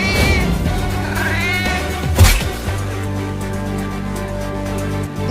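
A cartoon cat meows amid the dense background music of a Hindi comedy cartoon, with one sharp thwack near the middle. The mews are mixed into the score rather than standing alone.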